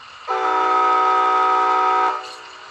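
A Bachmann Siemens SC-44 Charger N scale model locomotive sounds its horn in one loud, sustained chord lasting nearly two seconds, cutting off cleanly against a faint background hum.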